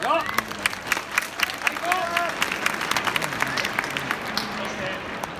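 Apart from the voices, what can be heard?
big crowd cheering at Tokyo Dome baseball game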